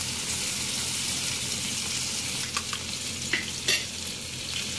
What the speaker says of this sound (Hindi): हमारी भिंडियाँ बिल्कुल फ्राई हैं।